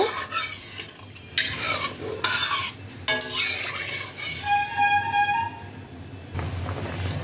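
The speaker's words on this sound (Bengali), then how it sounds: "ঝোলটা ফুটতে শুরু করে দিয়েছে" Koi fish and cauliflower curry broth heating in a pot, with scraping, clattering utensil sounds and stirring over a low bubbling, sizzling background, a brief whistling tone near the end, no talking.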